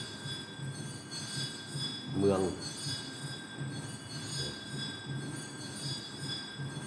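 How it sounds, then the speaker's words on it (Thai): A bell rings loudly and continuously, its steady metallic tone sustained over busy outdoor background noise, with a brief voice in the middle. "ได้ยินเสียงอยู่ขนาดนี้เป็นเสียงระฆังดัง"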